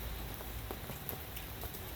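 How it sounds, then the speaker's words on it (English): Steady rain falls outdoors at a football setting, a dense even hiss of drops that stays constant and moderately faint throughout. "Slow down the rain."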